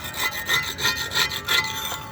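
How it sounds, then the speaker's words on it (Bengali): A damaged wooden round table top is rubbed down by hand, giving about seven rough, gritty back-and-forth scrapes in a fast close rhythm, with nobody speaking. "এই টেবিল টপটা খারাপ হয়ে গেছে, যতটা ওঠে ঘষে দিচ্ছি"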